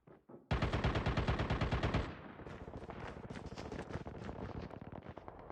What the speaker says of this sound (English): I still hear a bombardment of gunfire